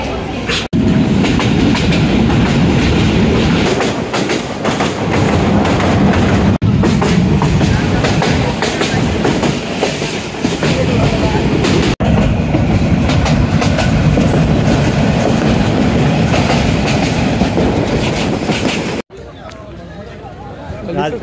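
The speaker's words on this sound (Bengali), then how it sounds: "ট্রেনে উঠলাম কোনো রকমে" Crowded Balaka passenger train running on rails near Gazipur: continuous loud rumble and rattle of carriages with rhythmic clatter, a babble of passengers talking throughout, ending in a sudden drop to quieter interior noise.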